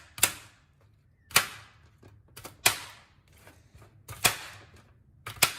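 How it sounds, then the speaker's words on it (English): A knife chops vegetables straight in a pan with five sharp, spaced clacks, each ringing briefly, close and clear with no talk. "And then I do this, and then I cut them right in the pan."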